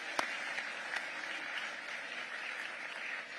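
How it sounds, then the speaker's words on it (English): An audience at an awards ceremony in New York applauds an awardee with steady, moderately distant clapping that holds evenly, with a few sharper individual claps near the start. "A big round of applause with our awardee, Gianni Infantino."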